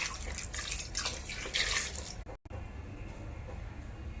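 Water poured into a pressure cooker holding corn cobs, a soft continuous splashing and trickling up close that breaks off briefly, then resumes more quietly.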